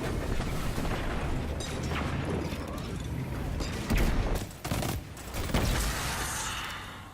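Missiles fired by a boss explode in a video game, dense booming blasts and mechanical clanking layered over a constant roar, with sharper impacts standing out around the middle.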